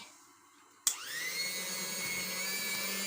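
A stand mixer or electric appliance switches on and runs steadily, whirring with a constant motor hum while mixing paska (Easter bread) dough in a home kitchen; no talking.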